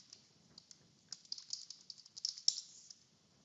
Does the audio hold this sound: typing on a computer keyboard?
yes